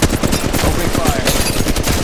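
Rapid automatic gunfire in the mobile shooter Apex Legends Mobile, a loud, dense, unbroken burst of rounds filling the whole moment.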